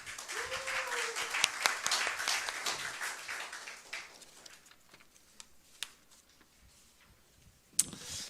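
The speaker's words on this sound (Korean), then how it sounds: "큰 박수로 맞아주시기 바랍니다." Applause from an audience at a public hearing greets an arriving speaker, loud at first then thinning out into scattered, isolated claps before fading.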